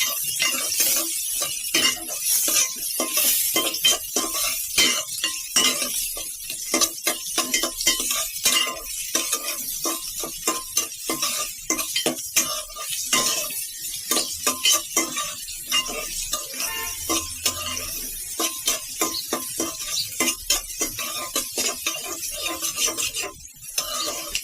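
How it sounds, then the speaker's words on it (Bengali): Onions frying in a pan with cinnamon sticks and a sliced green chili while a chicken curry is cooked, giving a steady sizzle broken by frequent scraping and stirring clinks of a spoon against the pan, with no talking. "এখন পেঁয়াজগুলো একটু বাজে নেব।"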